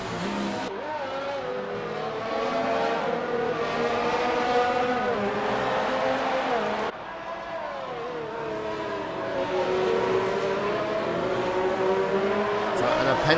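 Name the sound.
racing cars' engines in an F1 video game race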